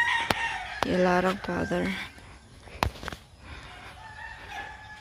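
Chickens cluck around a provincial coop in Negros Oriental while a rooster lets out a clear nearby crow, with people talking over the scene.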